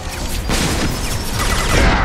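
A flashbang blast in the sci-fi shooter Mass Effect 2 lands amid a dense wash of gunfire, with a sharp broadband burst near the start followed by sustained loud crackling combat noise.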